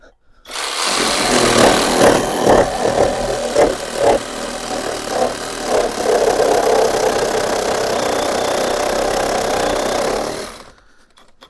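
A Procraft Industrial RS20A cordless reciprocating saw at its top speed cuts with a loud buzzing drone and rhythmic pulses of the blade, running steadily for about ten seconds before stopping.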